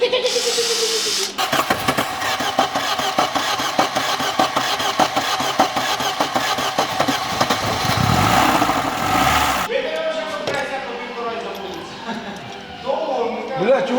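A Renault Mégane 1.5 dCi diesel engine cranks and catches, then runs with a rough, rattling idle, loud and close, with a voice talking over it.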